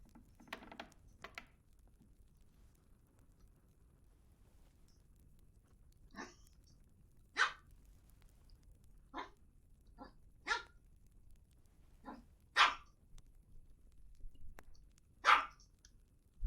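A dog in the game Kingdom Come barks in scattered single and double yaps at a moderate distance, spaced a second or two apart over a quiet background.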